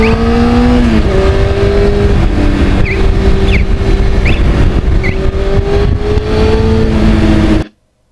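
A 1991 Yamaha FZR 1000 motorcycle being ridden, its engine droning loud and steady with gradual shifts in pitch across gear changes, close and continuous until it cuts off abruptly at the end.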